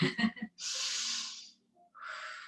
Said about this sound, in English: Audible exhales.